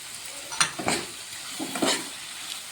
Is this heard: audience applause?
no